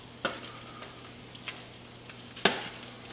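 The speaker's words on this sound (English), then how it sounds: "So now let's go ahead and transfer them to our marinara sauce." Hot meatballs just out of the oven drop one by one into marinara sauce, soft sizzles with a couple of sharp knocks, the loudest near the end, over a low quiet background.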